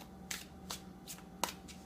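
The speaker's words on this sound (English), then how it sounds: "as I'm pulling these tarot cards" Tarot cards being drawn and handled during a reading: soft, close papery flicks and slides, about five light card sounds spaced out and quiet, with no talking.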